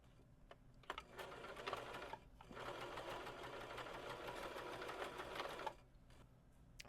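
A sewing machine runs a regular zigzag stitch for several seconds, a steady close whirring with rapid needle chatter that starts, holds and then stops.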